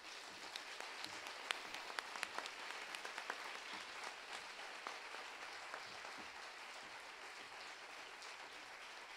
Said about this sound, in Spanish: Ahora sí recibimos con un fuerte aplauso en el escenario de la EMMA